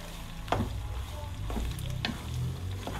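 A spoon scrapes and stirs through pasta with cheese and cream in a pot, giving a few distinct knocks and swishes over a soft background sizzle, close and quiet.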